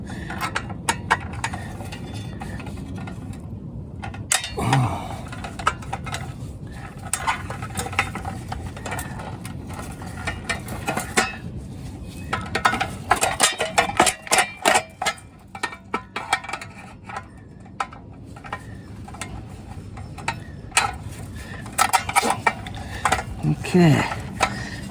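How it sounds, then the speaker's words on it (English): Lug being undone with a hand ratchet during plumbing and electrical work, giving bursts of quick mechanical clicking and metallic clanks over a noisy workshop background, with a voice speaking at times. "one more lug to undo"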